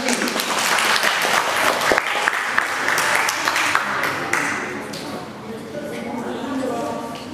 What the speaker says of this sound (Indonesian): Konsentrasi, tepuk tangan untuk regu I.